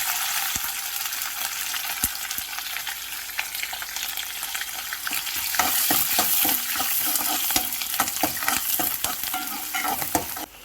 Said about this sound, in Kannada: ಸ್ವಲ್ಪ ಜೀರಿಗೆ ಹಾಕೋಣ ಫಸ್ಟು, ಸ್ವಲ್ಪ ಮೆಂತ್ಯ, ಕರಿಬೇವು, ಈರುಳ್ಳಿ ಮತ್ತು ಹಸಿಮೆಣಸಿನ್ಕಾಯಿ ಮೂರನ್ನ.